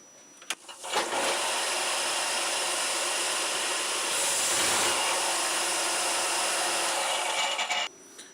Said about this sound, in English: Here's a belt sander.